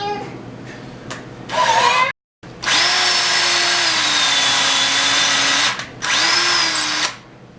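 A drill bores an eighth-inch hole into a steer horn, whining steadily and loudly for several seconds after a few brief bursts, with a short pause before it stops again.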